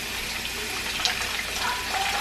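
Tap water runs steadily from a kitchen faucet over lean market meat being rinsed, a continuous close splashing gush with no talk.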